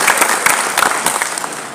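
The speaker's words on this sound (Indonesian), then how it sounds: "Tepuk tangan untuk Pak Hasim," A political rally crowd gathered for a declaration backing Prabowo-Gibran claps for Pak Hasim, loud, close applause with sharp individual hand claps standing out over a busy crowd.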